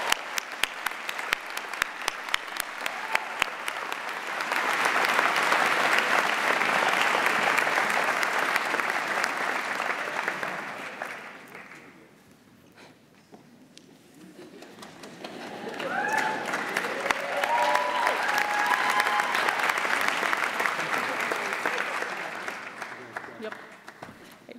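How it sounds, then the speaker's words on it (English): Audience at a kinesiology commencement ceremony applauds in two long swells, the clapping building, fading briefly, then rising again, with faint voices and a short spoken line in the lull between them. "One more round of applause."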